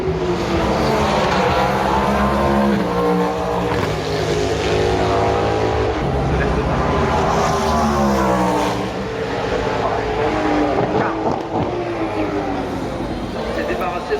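Race cars at the 24 Hours of Le Mans 2023 roar loudly past over sustained engine drone and shifting revs, with a commentator's voice running over the noise throughout.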